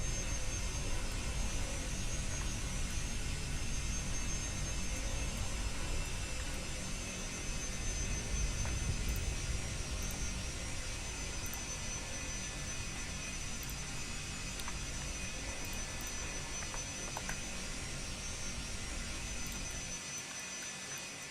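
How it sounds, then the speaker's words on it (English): A parked airplane's jet engines hum steadily while the aircraft waits to depart, a constant broadband whine and rumble holding level throughout, with no talk. "Waiting for the plane to depart."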